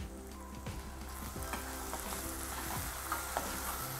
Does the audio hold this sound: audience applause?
no